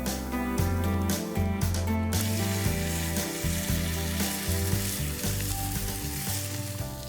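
A ribeye steak sizzles and fries loudly and steadily in a homemade wood-fired stone oven, a close, continuous crackling hiss with soft stirring or shifting sounds and no talk.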